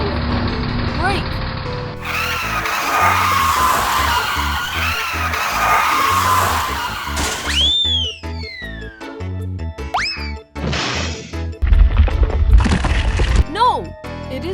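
Cartoon road roller braking and skidding, with bouncy sound effects, squealing swoops and bumps mixed with music and lively voices.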